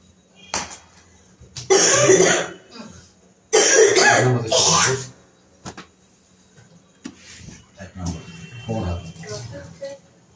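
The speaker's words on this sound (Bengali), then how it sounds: "কাশি কাটছো।" Several harsh coughs from a person indoors, loud and close, coming in short bursts separated by pauses, with fainter throat sounds and some background noise between them.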